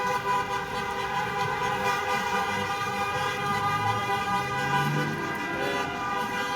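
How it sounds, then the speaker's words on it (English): Car horns honk in long, sustained blasts at a street freedom rally in Edmonton, Alberta, layered over traffic rumble and a distant siren-like tone, continuous and moderately loud throughout. "It looks like these guys have decided they're gonna honk for freedom anyways."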